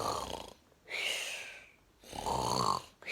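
Heavy, loud snoring in three rough, rattling breaths close by, with quiet pauses between each snore.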